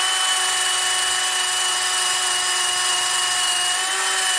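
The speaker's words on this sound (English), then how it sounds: "I like to go over just a quick once over with a wire wheel" A wire wheel spins at high speed against a Dana 60 axle for a 1979 Jeep Cherokee Chief, giving a steady, loud whine that holds unbroken throughout.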